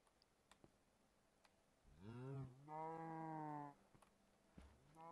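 An animated cartoon-style cow moos inside a video game, a single drawn-out low moo in two swells lasting about two seconds, clear over a faint background of small clicks.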